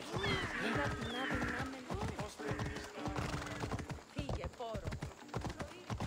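A horse in Assassin's Creed Odyssey clops along with rhythmic hoofbeats and lets out whinnies, heard close under steady speech.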